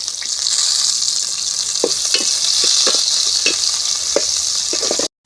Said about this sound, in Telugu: ఇలా అయితే వేపేసుకుంటున్నాను